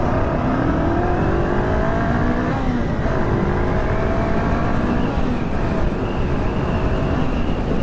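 Motorcycle engine revving and pulling away under hard acceleration, a loud steady roar close up with rising pitch sweeps throughout.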